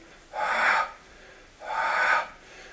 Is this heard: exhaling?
yes